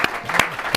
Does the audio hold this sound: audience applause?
yes